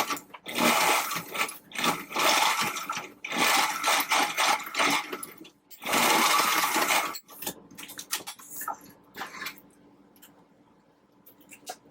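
A sewing machine stitches a pleated fabric face mask in several bursts of rapid mechanical whirring, each a second or two long, separated by short pauses, then quieter clicks and handling at the end.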